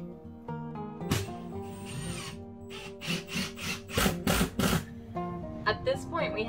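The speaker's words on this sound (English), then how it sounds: "When you're screwing down your plywood subfloor, you're going to want to put a screw about every 8 inches." A power driver sets screws into a plywood subfloor in a renovated bathroom, giving several short, loud whirring bursts with a woody grind, spaced out over background music.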